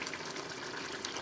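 Single cream pours from a container into masala sauce in a pan, a soft steady liquid trickle and splash, faint and continuous with no talk.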